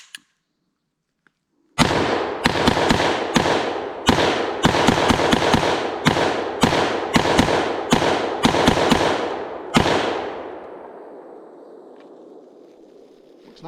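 A Colt AR-15 with an 11-inch barrel fires about a dozen sharp, loud reports in a quick, slightly uneven string outdoors, each shot close and punchy, and a long echoing tail fades out after the last round.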